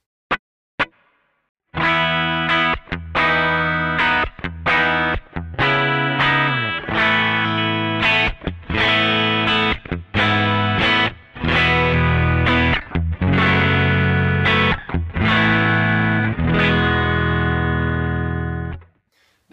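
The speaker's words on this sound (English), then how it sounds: "These two pedals I leave on most of the time, and it is essentially the foundation of what I build all my other sounds off." Electric guitar played through a chain of always-on effects pedals forming a base tone, a run of loud, rich sustained chords and notes struck one after another with heavy harmonic layering, alone without talk.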